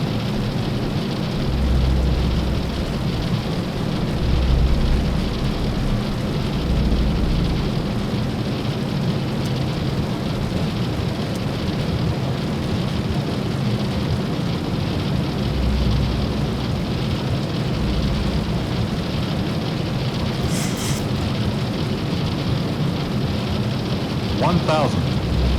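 An airliner in X-Plane 11 descends to land through stormy, windy weather, giving a steady loud rumble of engine and wind with a rain-like hiss and brief faint tones near the end.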